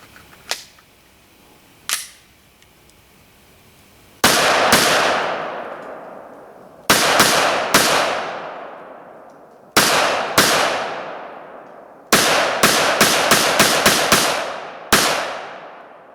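A Walther handgun fires, first two faint distant cracks, then loud close shots with ringing echoes, some single and some in quick rapid strings, with no talking.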